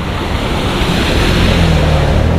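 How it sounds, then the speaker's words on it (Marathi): Floodwater rushes over a road in heavy monsoon rain at Guhagar, a steady, loud, broadband roar of flowing water with no pauses, close by and unbroken by any voices. "इकडून सुद्धा हे असं पाणी वरून शेताबितामध्ये जातं आहे"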